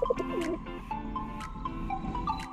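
Homing racing pigeons in a rooftop loft giving soft low coos and a few short calls, quiet and close, over a faint background hum.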